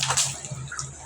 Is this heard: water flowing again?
yes